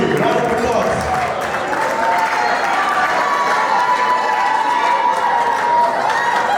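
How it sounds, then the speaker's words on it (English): A wedding crowd at a Samoan and Nigerian celebration claps and cheers steadily, a dense continuous wash of applause and whoops filling the room at close range. "Levers family, round of applause."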